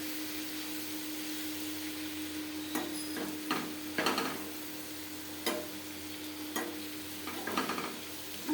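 Okra curry sizzling in a pan with intermittent stirring, sharp scrapes and clicks of a spoon against the pan over a steady low frying hiss, close and fairly quiet.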